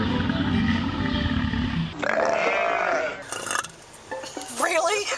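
A ruminant animal lets out loud, guttural burps, a rough low belch followed by a couple of shorter grunting bursts, close and unaccompanied.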